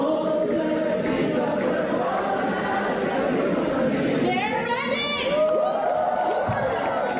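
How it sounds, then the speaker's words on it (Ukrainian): A concert hall crowd at a Eurovision pre-party cheering and applauding Ukrainian performers, a steady dense wash of voices and shouts with rising whoops, near and loud throughout. "Ви лиш послухайте, як зал приймає наших дівчат."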